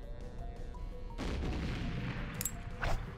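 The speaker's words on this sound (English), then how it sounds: "What is that, a fucking rocket launcher?" A rocket launcher fires in GoldenEye: Source, a sudden booming blast that swells after a quieter stretch, followed by a couple of sharper explosive cracks near the end.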